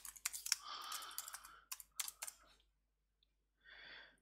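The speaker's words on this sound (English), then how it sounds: "Let's type that in." Quick bursts of keystrokes on a computer keyboard, close and fairly quiet, with a short pause and a final brief run of typing.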